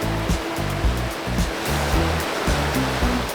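Loud, constant rush of water from a stream on the Berkeley River in Australia's remote north west, with steady churning turbulence throughout and no talk.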